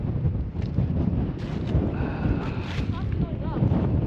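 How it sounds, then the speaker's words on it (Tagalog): Strong wind roars and buffets continuously against the microphone at Abraham Lake, with faint voices and rumbling noise underneath. "Lakas ng hangin."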